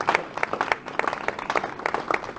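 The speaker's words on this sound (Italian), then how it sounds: "vi chiedo anche di fare un applauso a loro" An audience gives a brief burst of applause for students at an event in Liguria, a dense patter of many hands clapping close by, with some voices mixed in.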